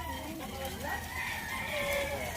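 A Boston Roundhead or Sweater gamecock rooster crows from nearby, a drawn-out call rising and falling in pitch, over a steady murmur of farmyard background noise.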